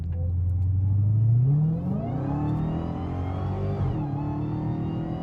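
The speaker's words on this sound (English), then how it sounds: "This is an example of what it sounds like after a cold air intake." A Hellcat engine with a cold air intake revs up loudly, its pitch climbing and then settling into a steady, throaty drone, close by with no talking.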